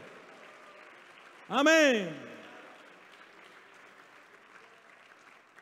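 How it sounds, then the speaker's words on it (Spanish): Congregation applause fills a church service, a steady clapping wash with a loud, rising shouted voice bursting over it partway through before the clapping settles back to a moderate level. "Un aplauso para el Señor en esta tarde."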